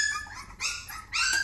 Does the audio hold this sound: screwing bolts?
no